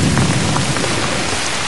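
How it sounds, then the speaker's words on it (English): Rain begins falling outdoors in the wilderness, a loud steady hiss of drops on surfaces with a low rumble of thunder underneath. "so here comes the rain"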